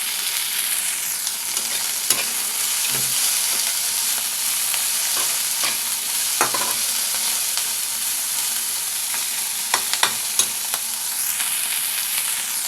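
Poha being stirred with salt and turmeric in a pan, with a steady soft sizzle and repeated scraping and clinking of a spoon against the pan, fairly close and with no talking.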